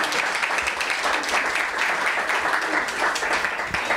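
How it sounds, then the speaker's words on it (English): Steady, full applause from the audience at a children's mental health summit, a dense continuous wash of clapping that holds at even loudness throughout. "If you guys could just give those folks a round of applause for"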